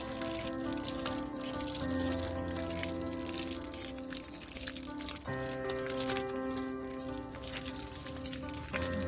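Water runs slowly onto grapevines from one side of a vineyard row next to a parked tractor, a steady splashing flow layered over a constant mechanical drone.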